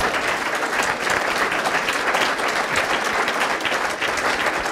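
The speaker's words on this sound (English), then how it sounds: "let's give these two a very warm round of applause." Dense, continuous clapping from a large audience, steady and enthusiastic throughout with no pauses or voices standing out.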